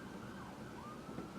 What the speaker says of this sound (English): police sirens.